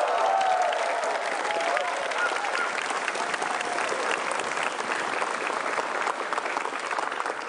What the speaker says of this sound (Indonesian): Tepuk tangan yang meriah buat Bapak Basuki Cahayapurnama.